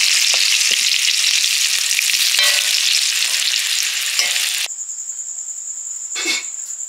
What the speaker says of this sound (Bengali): মাংসের আলুগুলো ভেজে নিচ্ছি।